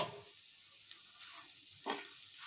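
Grated coconut dry-roasting in a pan with chilli powder for egg masala sambar, giving a soft steady sizzle with occasional stirring scrapes, close and fairly quiet, no talking.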